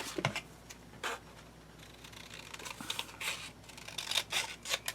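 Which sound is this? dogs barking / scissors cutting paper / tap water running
scissors cutting paper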